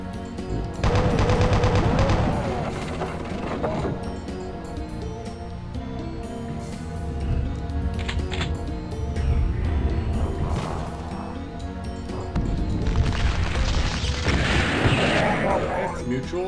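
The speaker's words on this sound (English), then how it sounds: "Might shoot more bullets, I guess." Rapid bursts of gunfire from weapons in the video game Epic, loud and dense, repeated volleys with booming hits and crashes across the stretch.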